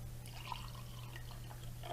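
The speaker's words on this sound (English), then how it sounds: "you take your tea kettle or your pitcher of indicator and you pour it in" Indicator liquid pours from a pitcher into a glass, a faint continuous trickle and splash over a low steady hum.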